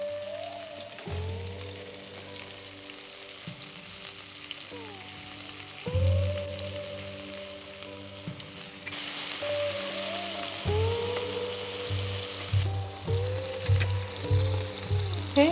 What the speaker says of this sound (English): Okay, so our sauce is boiling.